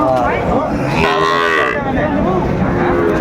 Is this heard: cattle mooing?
yes